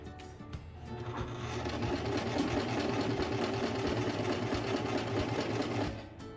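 A sewing machine runs steadily, stitching pieces of a t-shirt quilt together, with a close, continuous rapid mechanical whir and rhythmic needle clatter that starts and stops at the ends.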